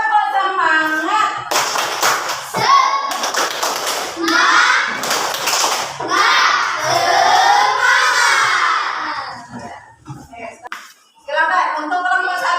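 Schoolchildren in a classroom clap a rhythmic spirit clap on a teacher's cue, bursts of unison hand claps mixed with loud chanting voices and shouts, pausing briefly before the clapping and chanting resume.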